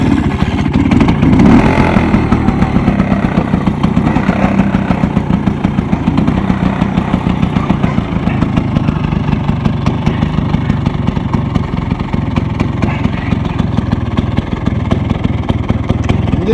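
An old Bajaj Chetak two-stroke scooter with its engine in good condition catches with a brief rougher burst, then settles into a loud, close, steady buzzing idle that runs on evenly.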